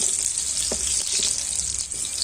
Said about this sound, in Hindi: अब इसे गोल्डन ब्राउन होने तक तल लेंगे।